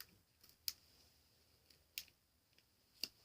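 Scissors snipping through hard, dried-up slime, three sharp, crisp crunching cuts spaced about a second apart in a quiet room, with fainter clicks between.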